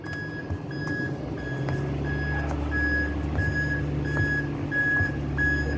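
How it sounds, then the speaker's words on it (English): Truck backing up outdoors, its backup alarm sounding a steady series of evenly spaced high beeps over a low, continuous diesel engine rumble, moderately distant, with no talking. "There's a truck backing up"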